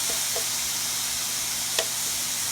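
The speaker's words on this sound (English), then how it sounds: "yellow onions, a whole big onion, and some red and yellow sweet peppers and some garlic to start things off here. We're going to saute that down" Yellow onion, red and yellow sweet peppers and garlic sauté in a pan with a steady, soft sizzle and a few faint stirring knocks, heard up close with no talking.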